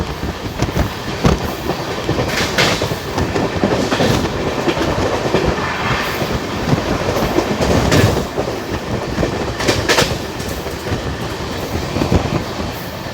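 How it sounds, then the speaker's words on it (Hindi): Express train 14624 to Varanasi runs at speed through Tangra railway station, heard from on board with a loud, continuous rumble and clickety-clack of wheels over rail joints, with periodic sharper bursts of rattling and no talk. "और इतने में हम क्रॉस कर रहे हैं टांगरा रेलवे स्टेशन।"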